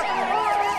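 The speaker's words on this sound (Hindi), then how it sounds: "इनको सुनाई देता है पुलिस का सायरन" A police siren in a movie scene wails in a steady rising and falling sweep, loud and close, with no talk over it.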